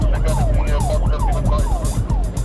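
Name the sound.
police car siren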